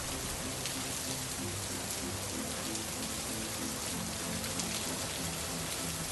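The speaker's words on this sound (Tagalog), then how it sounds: "Ang lakas ng ulan." Heavy rain pours steadily and densely, a continuous hiss of drops drumming on surfaces that stays even throughout, with faint low tones beneath it.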